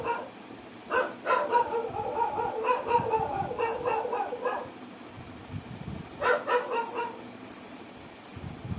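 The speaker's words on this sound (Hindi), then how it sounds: "मेरी गली में कुत्ते भौंक रहे हैं" Several dogs bark in irregular bursts close by, mixed with rooster-like calls and ongoing outdoor background noise.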